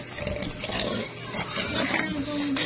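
A pig grunts and snorts while being fed strawberries. The rough, close sounds are continuous and mixed with background voices.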